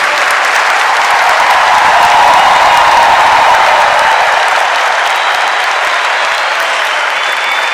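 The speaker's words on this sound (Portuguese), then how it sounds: "A igreja do Brasil merece esse aplauso" Loud, sustained applause from a large crowd at the Hosana Brasil Catholic gathering, steady and dense throughout with no pauses.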